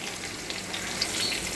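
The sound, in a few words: onions frying in oil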